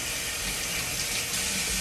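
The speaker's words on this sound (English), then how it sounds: "now I'm gonna rinse this out." Steady running water rinses conditioner out of short hair, a continuous even splash and hiss throughout with no voices.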